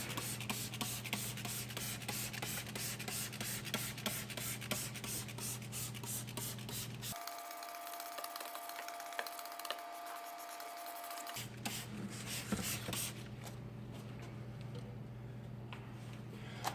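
Engine degreaser sprays across a Porsche Cayman engine bay in a quick run of short, rhythmic spritzes, bursts that repeat steadily over a low background hum, close and moderately quiet.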